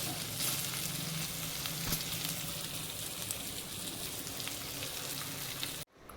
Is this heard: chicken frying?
yes